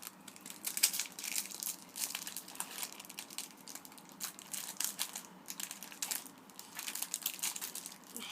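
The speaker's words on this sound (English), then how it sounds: "today I've got a pack of Moshling Manners training cards. Let's get opening." Faint crinkling and tearing of a foil pack of Moshling Manners trading cards being opened, continuous soft rustles and crackles with no talking.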